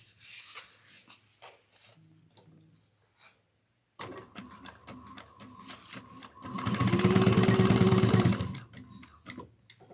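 A sewing machine top-stitches fabric in a short, steady burst of rapid whirring near the end, after quiet rustling, rubbing and a few ticks from handling the material.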